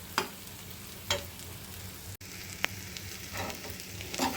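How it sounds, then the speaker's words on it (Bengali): Fish roe frying in a pan, a low, steady sizzle broken by occasional sharp spatula scrapes and clinks, quiet and close, with no one talking. "কত সুন্দর করে মাছের ডিম ভেজে নিলাম"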